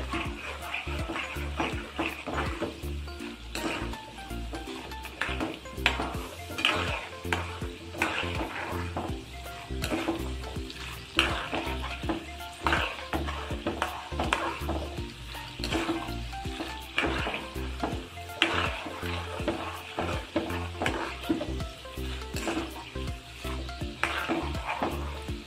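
Lentils and spices for tempering fry in oil in a pan for lemon rice and mango rice. The sizzle is soft and continuous, with a spoon stirring and clinking now and then.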